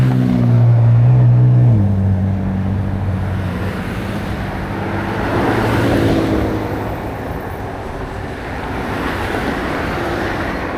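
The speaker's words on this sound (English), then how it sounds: "Lots of cars." Busy road traffic with many cars on a morning ride to work, a loud continuous roar of passing vehicles and rushing wind that swells and fades, with no talking.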